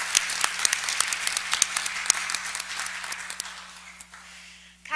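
Audience applause at a pathology department awards ceremony, a steady crowd of clapping with sharp individual claps standing out, fading toward the end.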